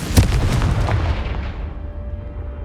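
A Confringo fire spell bursts open a blocking pile in Hogwarts Legacy: one loud close explosive boom with a sharp crack, followed by a rumbling decay that fades out over about two seconds.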